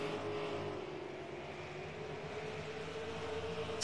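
Race cars circle the New Smyrna track on the final lap of a night race, their engines a continuous distant droning roar with a whining tone, with no talk over it.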